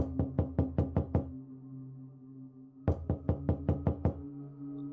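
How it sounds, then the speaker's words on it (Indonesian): Knocking on a boarding-house room door: two bursts of about seven rapid, sharp raps each, separated by a pause of over a second, close and clear over a faint low hum. "Pintu kosan diketok."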